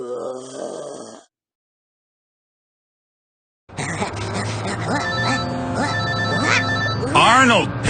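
A telephone rings in a movie scene, its tonal ring starting after a short silence and repeating over grunts and moaning voices, fairly loud and near.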